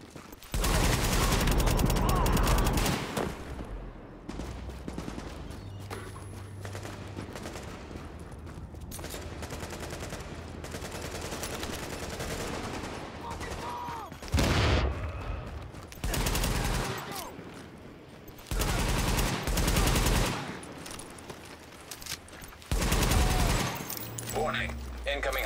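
Bursts of automatic gunfire crack in The Division shooter game as supplies come under attack, with loud volleys stopping and starting in clusters across the span, separated by quieter stretches where voices talk.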